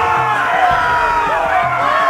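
Arena crowd in a Game of Thrones video game roaring and cheering steadily, a dense wall of shouts and whoops held at full volume from start to finish.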